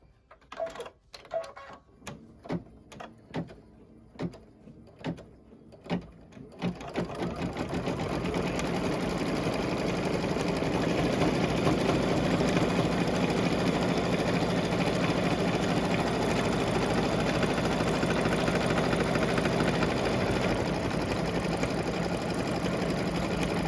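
An embroidery sewing machine stitches the trimming line of a heart window on a treat bag, starting with a few separate thumps before settling into a loud, continuous rapid mechanical whirr that runs steadily to the end.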